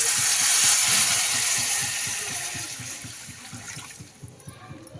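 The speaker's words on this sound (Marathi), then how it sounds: "एक तांब्या आणि पाव तांब्या पाणी टाकलं" Water poured from a lota into hot pithla masala with onion and radish sets off a loud hissing sizzle, with low rhythmic bubbling beneath, that gradually fades over a few seconds.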